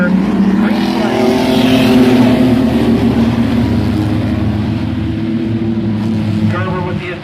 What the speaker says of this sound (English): So the field coming back to green, Lindell and Gerber. Green flag